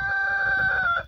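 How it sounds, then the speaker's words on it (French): A Brahma rooster crows once, close and loud, in a single sustained call that fades at the end, with hens in a backyard poultry pen. "donc là on a le coq, une poule là et 2 poules là."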